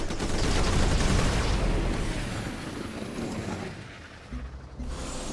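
Needle jet bombing run in the strategy game Civilization: Beyond Earth, a loud dense burst of rapid gunfire and explosive rumble that swells early, fades, then returns in short choppy bursts.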